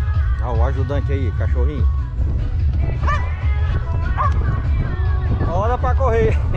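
A small dog barks and yips repeatedly in short bursts, close by, over a background of people talking at a vaquejada rodeo event in Mombaça, Ceará.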